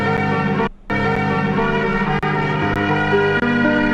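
A pitched-down sampled music loop with abrupt, choppy cuts between slices, including a sudden brief dropout and sharp clicks at the edits.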